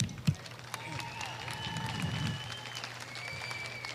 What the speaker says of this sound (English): They both deserve a good round of applause at this time.